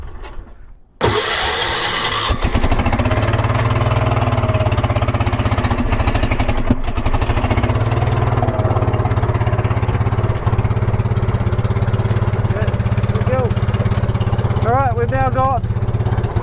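A vintage 1980s UTV engine cranks and catches, then runs steadily at a loud, close idle with a rough, chugging drone, while a voice briefly speaks near the end.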